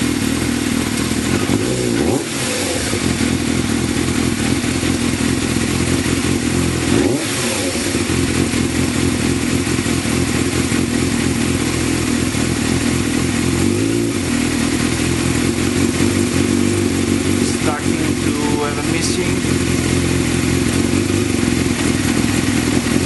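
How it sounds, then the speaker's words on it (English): A Yamaha YZF 600 motorcycle engine idles and runs roughly with a missing fault, a steady close rumble broken by occasional uneven thumps and stumbles, with no talking. "So I'm going to start the motorcycle."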